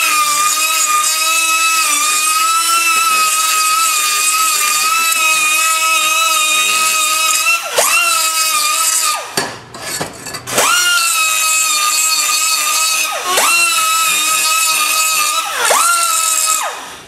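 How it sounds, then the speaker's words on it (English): A power tool grinds excess metal from the inside of a T4 turbo flange held in a vise, a steady high-pitched whine running close and loud, with short pauses and a brief drop in pitch midway. "I'm just going to remove the excess metal on the inside."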